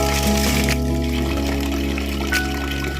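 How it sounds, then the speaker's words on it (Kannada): Water runs and splashes while an old gold and silver chain is rinsed clean, giving a loud, continuous trickling gush over a steady mechanical hum. "ಇನ್ನೂ ಒಂದ್ಸಲ ನೀರು ಇಟ್ಕೊಂಡೋದನ್ನು ಚೆನ್ನಾಗಿ ವಾಶ್ ಮಾಡ್ಕೊಂಬಿಡೋಣ"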